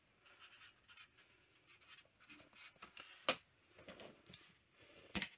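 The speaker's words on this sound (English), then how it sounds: "So we can write that down" A pen scratches out a cylinder measurement reading in a quiet garage workshop, with soft intermittent strokes and two sharper taps near the end, close and faint, with no voices.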